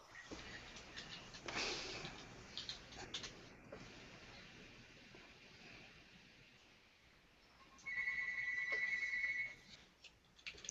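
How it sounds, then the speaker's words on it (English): A house phone rings faintly in the background of a room, one sustained electronic ring burst standing out briefly over low ambient noise. "somebody's phone's ringing."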